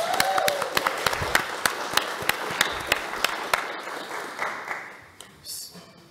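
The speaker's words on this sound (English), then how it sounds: "So I guess a round of applause for everyone in the room." A room audience at a welcome and introduction event applauds with sharp, evenly spaced claps. The clapping thins and fades toward the end, and some voices can be heard in the background.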